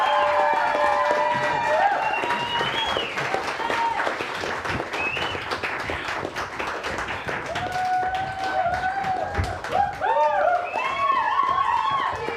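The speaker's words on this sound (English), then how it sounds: "Ladies and gentlemen, a round of applause." Live audience applause for champions at a fantasy game show event, steady clapping filling the room throughout, with talk and tonal music or voices layered over it.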